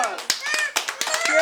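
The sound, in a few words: kids giving themselves a round of applause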